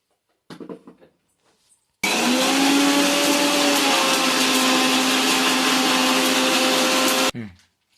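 A kitchen mixer grinder whirs loud and steady for about five seconds as it grinds fennel seeds with spices, after a few light taps and before it cuts off and spins down.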